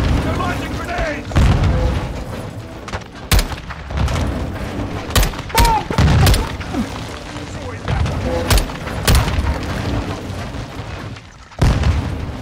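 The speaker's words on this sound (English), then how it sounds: "Take cover! They're launching grenades!" Grenade blasts in the Call of Duty: Modern Warfare 2 campaign hit as several sharp, heavy booms spread across a combat scene, with shouted voices and background battle noise between the explosions.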